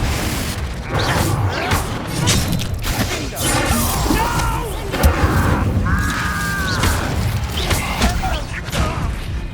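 Confringo blasting spell cast in the Hogwarts Legacy game, loud booming blasts and crashing impacts that keep coming amid dense battle noise and clattering mechanisms, with brief whooshing tones layered over the chaos.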